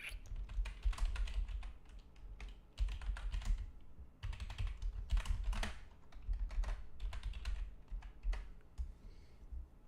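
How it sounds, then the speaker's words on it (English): Steady typing on a computer keyboard, close and fairly quiet, with clustered bursts of key presses separated by short pauses, and no voices. "Let me actually get this typed up just in case."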